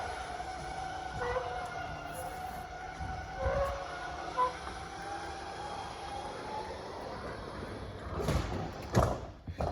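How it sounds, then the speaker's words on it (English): An electric awning motor on a 2012 Rockwood 8244S travel trailer rolls the awning in with a steady, faint mechanical whine and hum. A couple of louder clunks near the end mark the awning reaching the trailer side. "Awning will start rolling its way in."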